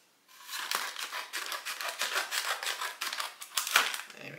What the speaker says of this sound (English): Trusty scissors.